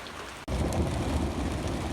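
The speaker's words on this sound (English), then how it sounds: "There goes the thunder." Heavy rain pours steadily on a pasture after overnight flooding, loud and close, while a deep rumble of thunder rolls beneath it.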